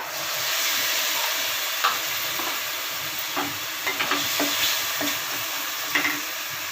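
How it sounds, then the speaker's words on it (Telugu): Tomato pieces frying in a hot pan for egg dosa, a broad continuous hiss and sizzle with a few scattered stirring taps and clicks, close and steady with no speech. "టమాటా ముక్కలు వేస్తున్నాను"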